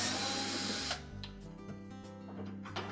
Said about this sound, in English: we'll remove screws that are attached to some tabs on the back of that console